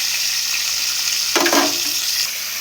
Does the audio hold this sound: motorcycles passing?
no